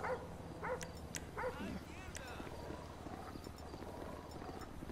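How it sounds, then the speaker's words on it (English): A dog barks several times in Grand Theft Auto V, sharp close barks bunched in the first two seconds, then a steady game ambience carries on underneath. "I hear a dog"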